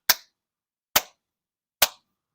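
Three sharp, evenly spaced hand claps made for camera sync in a garage wiring a Jeep Magnum 318, each loud and close with quick decay into silence.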